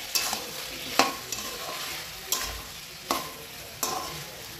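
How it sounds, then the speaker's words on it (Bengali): Meat sautéed in a pan with whole garlic and diced onion, a gentle sizzle under regular spatula scrapes, about six distinct strokes spaced roughly a second apart, close by. "এখন মাংসটাকে চলো ভালো করে কষিয়ে নিই"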